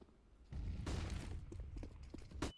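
A grenade blast in a competitive tactical shooter match: a sudden broad burst of noise lands near the start and holds for a couple of seconds, with a smaller sharp crack near the end.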